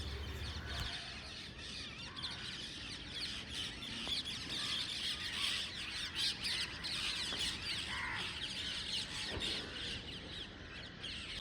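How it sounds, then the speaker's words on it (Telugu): A flock of sparrows chirps and squawks steadily throughout, a dense chatter of small bird calls at moderate distance with faint background hiss and no talk. "ఇక్కడ చూడండి పిచ్చుకల స్క్వాడ్ వస్తుంది అక్కడి నుంచి"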